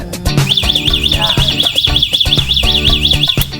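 A Famousso e-bike's anti-theft alarm sounds loudly and close, warbling up and down steadily, with rapid beeping pulses underneath.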